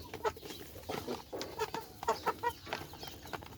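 Chickens clucking at close range in short, uneven bursts of cackles and clucks that overlap one another, with no talking.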